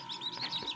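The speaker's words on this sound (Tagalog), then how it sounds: "Ito po ang kanilang mga inakay." Rapid high chirps from small Black Australorp chicks, several quick peeps in a row, close and fairly faint.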